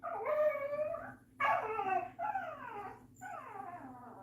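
A dog gives a run of high, wavering whimpers and whines, four drawn-out cries separated by short pauses, close and fairly loud with no scratching clearly audible.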